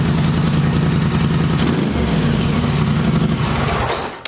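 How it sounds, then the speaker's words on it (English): Close, loud exhaust of a straight-piped four-wheeler ATV with a deep, throaty rumble and a brief rev in the middle, steady until it drops off at the very end. "The exhaust is definitely a lot deeper."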